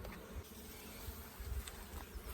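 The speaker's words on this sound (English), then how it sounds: "there's plenty of bees in there" Honeybees crowding a hive frame while a colony is being made up, giving a soft steady buzz with a few passing insect drones close by, quiet and with no voices.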